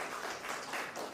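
Brief, fairly quiet clapping from an audience at a school storytelling competition finale, welcoming a young participant, a soft continuous patter of hands.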